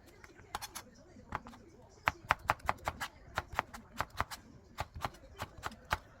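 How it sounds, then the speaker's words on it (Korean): Cucumber sliced with a knife on a board for a seaweed salad, a steady run of crisp close taps and chops, quiet, with someone speaking softly at times. "지금 오이 사오고 당근 사와서 이렇게 쓸고 있답니다"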